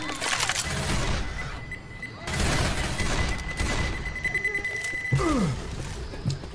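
Grenade blast and bursts of gunfire in the zombie shooter Left 4 Dead 2, a loud, busy stretch of game combat with shots and booming impacts running throughout, while a player's voice is faintly heard in the mix.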